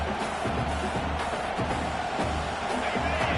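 Dense stadium crowd noise at an Indiana versus Clemson football game roars steadily throughout, a broad wash of many distant voices with occasional swells.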